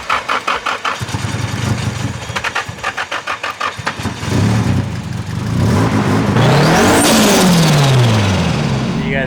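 A Nissan S13 reluctant to start cranks in a rapid stuttering series, then catches and revs up loudly, settling into a rough engine note while another car passes nearby at a track event.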